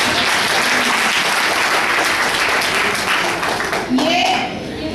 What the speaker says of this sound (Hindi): तालियां इन सबके लिए